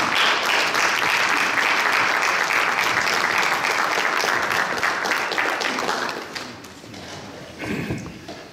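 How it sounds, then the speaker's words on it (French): Audience applause at a Congolese diaspora association gathering, dense and sustained clapping for about six seconds before thinning out and fading, with a brief final flurry near the end. "On applaudit."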